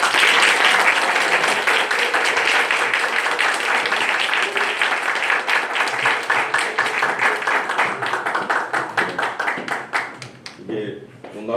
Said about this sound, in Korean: 목사님 나오실 때 우리 힘차게 박수 한번 해드릴까요?